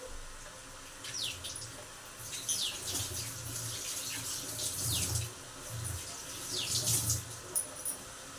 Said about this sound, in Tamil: தண்ணி கொதிக்கிற சவுண்டு கேட்குது எனக்கு